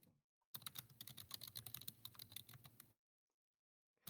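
Fast, forceful typing on a computer keyboard, a dense burst of sharp clacking keystrokes lasting about two and a half seconds, close and alone, with near silence before and after.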